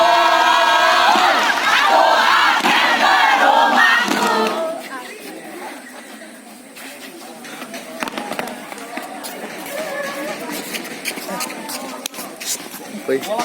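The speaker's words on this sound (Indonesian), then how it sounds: "Beri tepuk tangan yang meriah untuk Paskibra." A school crowd cheers loudly for a Paskibra flag-raising troop at MAN 1 Lampung Barat, with shouts and whoops dominating the first few seconds, then softer crowd noise with scattered claps and voices.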